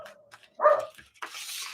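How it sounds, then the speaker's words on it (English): Two dogs at home give a loud, sharp bark with a whining tone in the middle, then a noisy rustle follows, with faint sounds before. "my dogs are very barky and whiny and needy"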